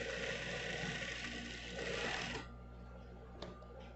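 A sewing machine runs continuously for about two and a half seconds while stitching the edge of a baby car seat canopy, then stops and leaves only a faint click.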